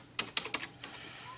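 Fingers tap on a computer keyboard in a few crisp, evenly spaced keystrokes, close and fairly quiet, followed by a soft steady hum.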